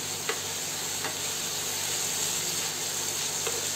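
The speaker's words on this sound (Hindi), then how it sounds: "यहाँ पर मैंने थोड़ा सा हल्दी और रेड चिली पाउडर लिया है, और इसे इसमें मिक्स कर देना है और इसे भूनना है" Turmeric and red chili powder stirred and frying with spring onion and potato in a pan, a steady close sizzle with a few soft scrapes of stirring, no talking.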